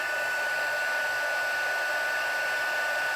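An electric heat tool blows hot air to melt embossing powder on a stamped plastic window sheet, giving a steady, even whoosh throughout with no talking.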